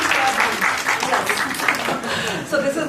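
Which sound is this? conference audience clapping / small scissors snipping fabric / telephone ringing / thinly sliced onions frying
conference audience clapping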